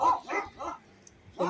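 A dog barking nearby, a quick series of three moderately loud barks, a brief pause, then another bark starting, with no one talking over it.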